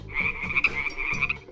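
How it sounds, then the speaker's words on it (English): A frog gives one continuous, raspy croaking trill, close and clear, holding steady for about a second and a half with no other sounds. "This is a frog."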